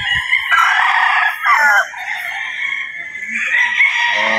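White Kelso gamecock roosters crow loudly and close by, long strained calls one after another with short pauses between them.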